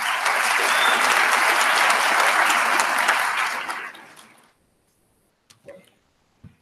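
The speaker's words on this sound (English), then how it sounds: "If we can give them a round of applause." An audience at an early college high school commencement ceremony gives a loud, full round of applause that holds steady, then fades away, followed by a couple of faint knocks.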